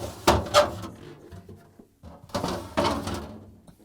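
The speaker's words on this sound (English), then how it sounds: "Let's pull out the crisper pan" A plastic refrigerator crisper drawer slides out of a Frigidaire fridge with a couple of sharp clunks and scrapes, followed by more rattling and knocking of plastic parts close by.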